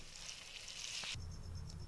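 Maggi instant noodles with vegetables stirred in a hot pan, a steady close sizzle with a brief scrape partway through, no talking.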